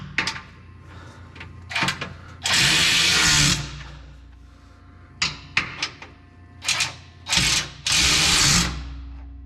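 A power tool drives 10 mm bolts on a 2021 Nissan Titan Pro-4X during an oil change. Several short, close whirring bursts and longer runs are separated by quiet pauses and small clicks.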